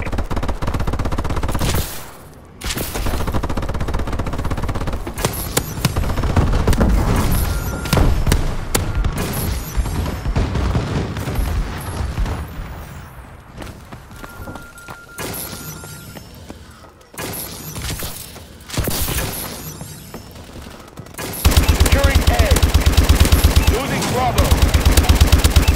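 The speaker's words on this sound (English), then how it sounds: "Friendly bombing run clearing the way." Dense battle noise from a Call of Duty: Advanced Warfare multiplayer match during a friendly bombing run: rapid gunfire and booming blasts build in loud waves, briefly dropping out before heavy impacts return near the end.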